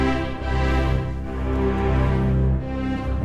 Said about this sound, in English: I'll just use Albion 1 for now.